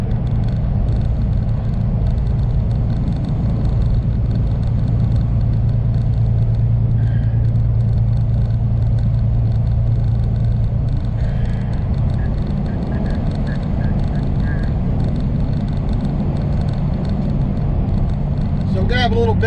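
A flatbed truck rolls along a country road toward Mississippi 7, its engine rumbling steadily and loudly the whole time, with a low drone and road noise and a few brief higher tones on top.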